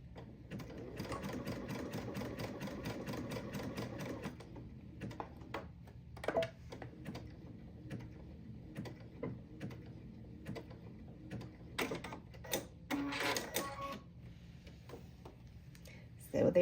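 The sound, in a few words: sewing machine stitching a zigzag on a cup cozy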